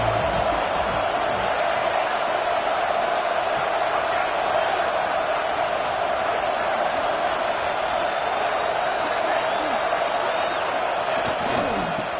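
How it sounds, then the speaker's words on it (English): Stadium crowd noise in a college football video game swells into a loud, steady roar that lasts throughout, a dense wash of fans trying to inspire the defense during a red zone stand. "Here comes the noise. This crowd is trying to inspire this defense to make a big red zone stop."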